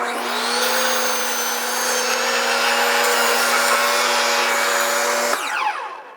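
A power tool whines steadily at close range while cutting a lever piece for a DIY chicken coop lift, a loud continuous drone that stops abruptly near the end.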